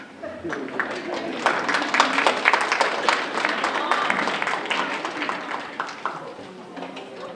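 Middle school students applaud their parents at a school orchestra concert, a dense burst of many hands clapping in a hall that swells and then tapers off.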